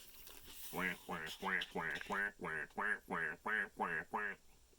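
A run of about ten short, evenly spaced nasal quacks, close and fairly loud, like a voice imitating a duckling's calls one after another.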